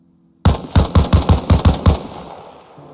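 An M16 fires 5.56 rounds at a helicopter's tail rotor in a video game. About eight loud, close shots come in a quick, fairly even burst, then a fading echo.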